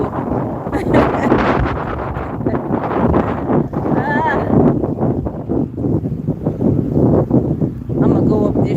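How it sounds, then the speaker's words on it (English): Strong wind buffeting the microphone on an outdoor walk along a trail, loud continuous gusty rumble with brief breaks, with a person's voice occasionally under it. "This wind ain't letting up."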